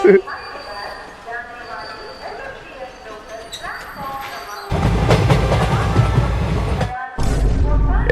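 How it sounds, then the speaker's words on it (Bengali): A train arrives in an animated Bengali comedy, first as a faint distant rumble under a few voices, then as a loud, close, rattling roar with wheel squeal that cuts off briefly and returns. "ওই তো মনে হয় ট্রেনটা আসছে"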